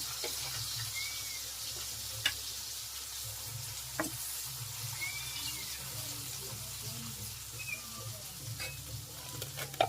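Onions frying in a kadai: a steady close sizzle with scattered clinks and stirring scrapes, running continuously with no talk.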